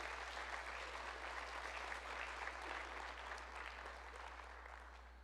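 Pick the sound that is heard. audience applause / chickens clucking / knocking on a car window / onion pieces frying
audience applause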